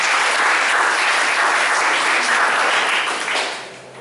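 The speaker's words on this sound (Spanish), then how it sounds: "Démosle un fuerte aplauso al Dr." A crowd gives a full, sustained round of applause welcoming a doctor at an academic presentation, loud and dense throughout, then tapering off near the end.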